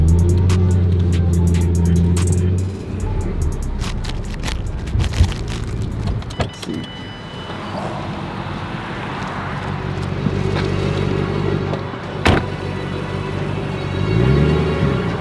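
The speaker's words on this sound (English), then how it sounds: "We're about to do some donuts." A new 2024 Ford F-150 4x4 pickup rumbles with a steady, close engine drone, swelling and easing as it circles, with a louder rev building near the end and no voices.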